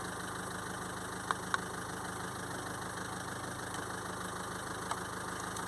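A car engine idles steadily during a diagnostic code scan with a kingbolen YA100 tool, giving a faint, even hum with a low pulsing rumble and a few small clicks, with no voices.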